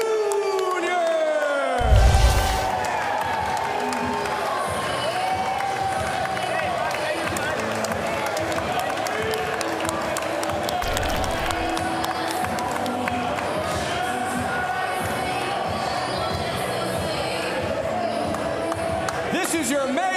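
Crowd at an MMA main event in Cincinnati cheers loudly and steadily for the full length, with an announcer's amplified voice carrying over the roar and a few thumps near the start.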